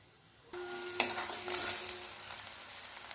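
A thick onion and spice paste drops into a hot pan and starts frying, with a sudden sizzle that rises to a loud, steady crackle and stirring scrapes, continuing alone without voices.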